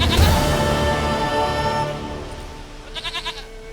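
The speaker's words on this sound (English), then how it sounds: "Goat of mine, dearest," A goat in The Witcher 3 gives a loud, drawn-out bleat over game ambience, then a short rhythmic series of quavering bleats follows near the end.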